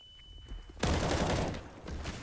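Sustained gunfire spray from a rifle in a Counter-Strike match, a dense burst of rapid shots erupting after a quieter moment, loud and close, then trailing off with a smaller burst near the end.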